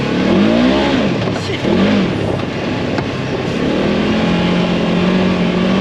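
A Polaris RZR 1000 side-by-side engine revs hard at full throttle, a loud, sustained roar that rises and dips in pitch as it is repeatedly floored, close up throughout.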